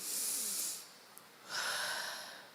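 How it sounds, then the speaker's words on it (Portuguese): Two long, close breaths, a deep hissing inhale followed after a short pause by another breath, loud and alone, as an audience in church seats is guided to breathe deeply. "Respira fundo aí na sua cadeira."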